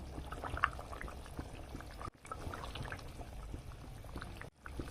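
Fish curry broth with taro bubbles and simmers in a pot on a gas stove, a steady soft bubbling and sizzling texture close by, broken by two brief dips, with no talking.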